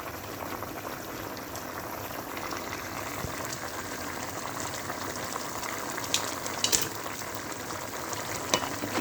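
Mussels boiling in a covered pot on the stove, a steady close bubbling and gentle sizzle that runs unbroken throughout, with a few brighter pops near the end.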